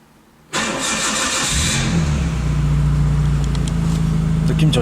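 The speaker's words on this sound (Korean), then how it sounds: "자, 시동 걸겠습니다." An old classic car's engine cranks and catches inside a garage, then settles into a loud, steady idle that runs on close by.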